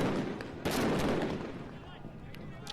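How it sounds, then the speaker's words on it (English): Fireworks and tear gas canisters fired back and forth in a crowd, a dense roar of sharp bangs and crackling pops, loud and continuous with distant crowd noise underneath. "I believe this was fireworks going back and forth and tear gas"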